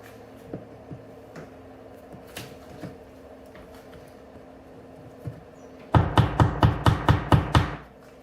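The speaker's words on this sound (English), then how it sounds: "Now we'll make little holes in here, and then we'll put our moly bolts in." Making small holes in a wall and setting moly bolts: scattered faint taps at first, then a quick run of about eight sharp, close hammer-like knocks near the end, with no talk.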